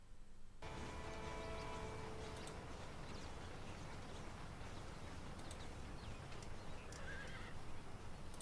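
A horse in the video game Red Dead Redemption neighs near the start, then its hooves clip-clop steadily under constant outdoor game ambience, close and fairly loud throughout.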